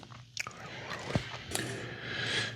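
Crunchy Chester's Cheetos being chewed close to the mic, a few sharp bites and crackling crunches spread over a couple of seconds with no talking.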